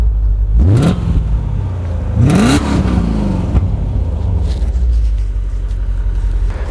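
A BMW E39 M5's 4.9-litre engine rumbles loudly nearby, its exhaust note rising in two quick revs before settling back to a deep, steady idle.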